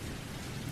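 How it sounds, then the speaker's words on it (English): Steady rain falling outdoors, a dense continuous patter that stays even and fairly loud throughout the short moment, with no voices over it. "do you hear that rain?"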